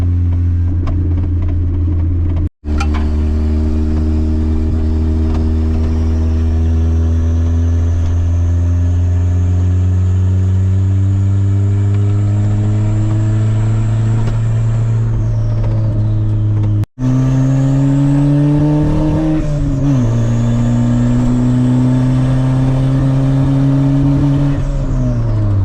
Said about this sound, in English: I don't know if you can hear the turbo whining with as short as the exhaust is,